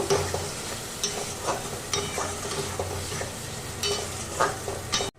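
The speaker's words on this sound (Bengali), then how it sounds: "এবার চলো বন্ধুরা এটাকেও খুব ভালো করে আমি কষিয়ে নেব" Tomato puree frying in a pan with ginger paste while a spatula stirs it, a soft continuous sizzle broken by regular scraping strokes about once a second, close and moderately quiet.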